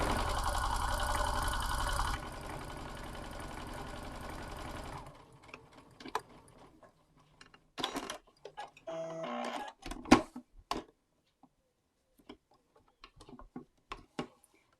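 A sewing machine stitching patchwork blocks for a card trick quilt block runs in a loud continuous whir that slows and stops, followed by scattered clicks and handling sounds of fabric and machine parts.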